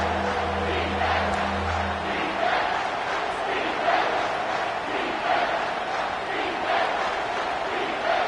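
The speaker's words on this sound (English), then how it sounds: "Man, this crowd really affecting the football game." A home crowd at a Texas football game roars in a dense, sustained swell of cheering and yelling, loud and continuous throughout, with a low rumble early on.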